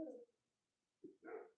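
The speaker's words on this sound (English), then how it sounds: "The coyotes are going. I heard the coyotes. The dogs are howling." Distant dogs and coyotes howling at night outdoors, a few faint short wavering cries spread over a moment of near silence, quiet and far off, with no talking.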